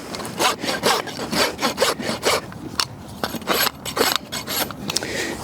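Steady, repeated rasping strokes of a rasp scraping across a horse's hoof, a rough back-and-forth rhythm close by with no talking.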